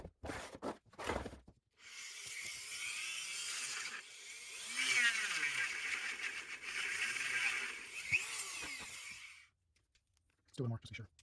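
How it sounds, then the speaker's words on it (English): A Dremel rotary tool with a small sanding drum grinds a 3D-printed robot frame rail in a high, steady whine that lasts several seconds, with its pitch dipping under load, and short handling clicks before and after. "use the Dremel with a little sanding drum"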